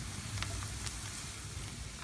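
Carrots frying in a pan, a soft continuous sizzle with a couple of faint utensil taps; brief and fairly quiet, no talking.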